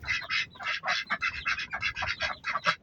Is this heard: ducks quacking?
yes